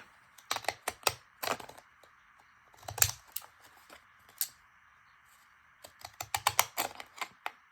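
Decorative-edge scissors cutting paper for a junk journal label, sounding as close crisp snips in quick bursts separated by short pauses, over a faint steady hum.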